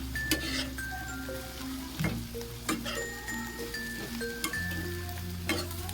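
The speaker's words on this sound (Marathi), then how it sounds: "आपण ह्याला परतून घेऊया." Bitter gourd (karela) sautéing in a pan makes a soft, quiet sizzle punctuated by several sharp spatula taps and clinks, with faint tonal sounds in the background.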